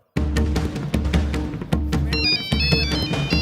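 A phone rings during a call to dad, a loud electronic ringtone that repeats in short bursts with a melodic tone pattern and brief gaps between rings.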